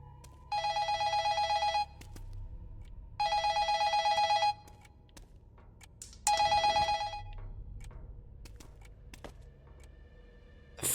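Three separate bursts of ringing from a telephone in the horror game Incantation, evenly spaced and loud, each lasting just over a second, ringing out alone over a low rumbling background with occasional thuds.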